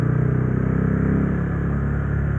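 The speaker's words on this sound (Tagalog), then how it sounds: "nakuha naman nung muffler shop yung gusto kong tunog. Yung bassy lang, ayoko yung masyadong bulahaw" Rusi Classic 250 motorcycle idling through a bassy aftermarket muffler, a steady deep low rumble with a throbbing pulse, close and fairly loud with no talk.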